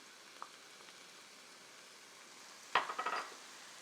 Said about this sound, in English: the meat is really starting to mix up now with the onion. Starting to brown